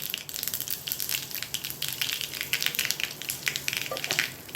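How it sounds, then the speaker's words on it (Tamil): Mustard seeds splutter in hot oil while tempering for sambar, a close crackling of scattered sharp pops and sizzle, dense and irregular over the whole stretch. "கடுகு இப்போ நல்லா பொரியுது."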